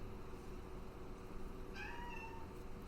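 A single short cat meow rises faintly over a steady background hiss in a fantasy roleplay podcast setting, brief and somewhat distant.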